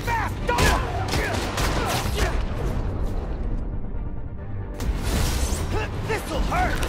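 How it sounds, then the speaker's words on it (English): Gunfire from Legion escapees in a shootout in the video game Marvel's Spider-Man: Miles Morales, rapid bursts of shots and booms with a short lull, mixed with voices. "The Legion escapees are shooting it out."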